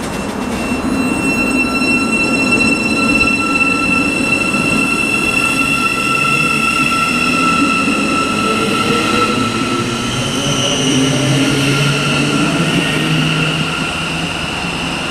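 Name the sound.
Thameslink passenger train passing through Stevenage station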